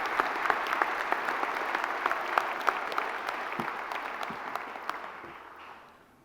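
A commencement audience applauds as Stuart Bainum is welcomed to speak at a spring college graduation ceremony, a steady dense wash of many hands clapping at moderate distance that holds for several seconds, then fades out with no talking over it.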